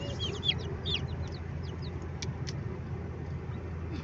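Baby chicks, black and yellow ones bought for raising for meat, peeping in quick high chirps over a low steady rumble of nearby road traffic, with no talking.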